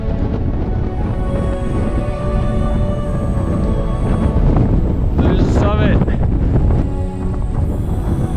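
Strong wind roars and buffets the microphone on the summit of Mount Adams in the Presidential Range, a loud, continuous blustery rumble with gusts throughout, while a person talks faintly beneath it.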